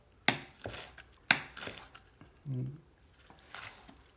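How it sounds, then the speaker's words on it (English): A knife chops chives on a cutting board in a home kitchen, a few sharp, close thunks spaced apart, with a soft muffled sound in between. "Just chop them up."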